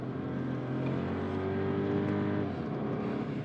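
A stock Volkswagen Polo hatchback on track tires and brakes races around a circuit, its engine holding a steady, loud drone with a slight pitch shift late on.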